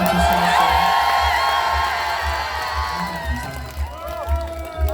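Outdoor crowd at a Daegu Gyodong Market community festival performance cheering and clapping together, a dense roar of voices and applause that gradually fades, with a few shouts rising near the end.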